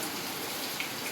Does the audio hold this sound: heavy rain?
yes